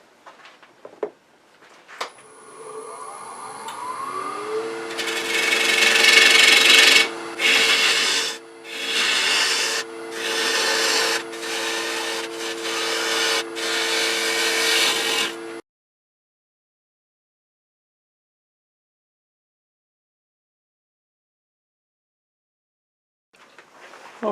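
A chestnut bowl is rough-turned on a wood lathe, starting with a motor whine that spins up. A tool then scrapes and rubs against the spinning wood in several loud bursts with brief gaps before everything stops abruptly, leaving silence.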